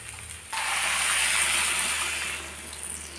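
Water pouring into a pan of drumstick poriyal, a steady close gush that starts suddenly and tapers off toward the end.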